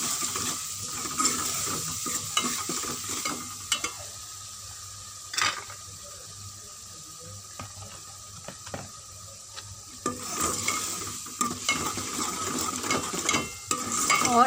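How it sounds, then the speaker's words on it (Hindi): Crushed red chili, turmeric and salt sautéing for a ridge gourd curry give a soft, continuous sizzle, with scraping stirs and occasional utensil clinks against the pan, fairly quiet and without speech. "इसको हम थोड़ा सा भूनेंगे।"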